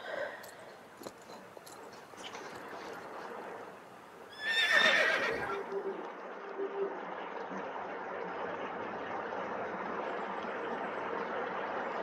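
Horse whinny and hoofbeats from an Arabian horse in the Star Stable video game, a loud neigh rising over steady clip-clop footsteps and game ambience.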